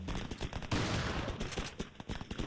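A pump shotgun fires in Resident Evil 4 amid rapid gunfire. One big blast stands out among a dense run of sharp, loud shots.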